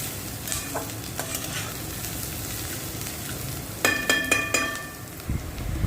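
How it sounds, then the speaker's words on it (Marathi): Onion frying in a pan with a spoonful of salt until browned, a steady soft sizzle broken by scraping and clinking stirring strokes, louder toward the end. "कांदा चांगला लाल होऊ देऊ"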